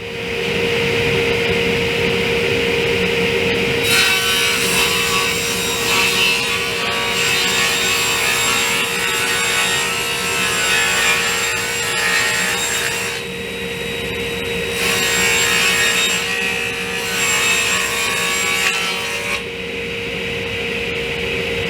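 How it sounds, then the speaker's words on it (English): A table saw rips plywood sheets into 10-inch strips: a steady motor hum runs throughout, overlaid by two long, loud, rough cutting passes with a brief lull between them, and no talking. "I'm going to go over to the table saw and I'm going to start ripping my my pieces of plywood"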